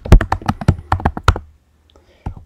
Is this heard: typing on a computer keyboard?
yes